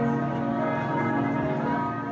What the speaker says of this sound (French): À Strasbourg, c'est le bourdon qui a résonné et rassemblé.